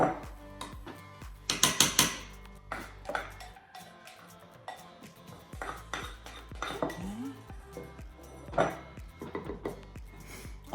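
Spoon scraping and clinking against a dish while Cortland apples are spooned onto apple fritter bread batter, with irregular close taps, scrapes and a few louder clatters of cookware in a home kitchen.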